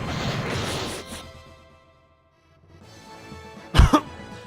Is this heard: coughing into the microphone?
yes